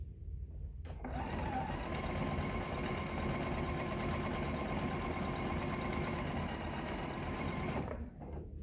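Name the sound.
sewing machine stitching a quarter-inch seam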